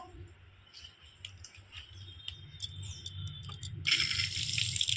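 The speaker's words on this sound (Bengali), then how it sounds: "ওগুলো পরিষ্কার করে ধুই দিই আয় ধো" Running tap water while items are washed clean at a home sink, a faint soft trickle with small clinks that swells into a louder steady splash toward the end.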